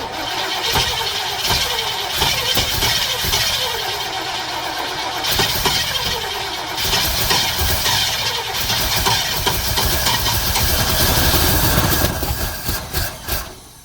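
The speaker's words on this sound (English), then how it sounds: "when it starts up and then backfires" A bus engine with a carburetor cranks and catches, running roughly and unevenly with sputtering surges, then pops as it backfires through the carburetor, loud and close, with no speech over it.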